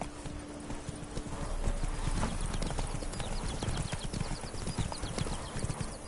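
Roach's hooves clip-clop steadily in The Witcher video game, a close, continuous walking rhythm over a dense layer of ambient game sound.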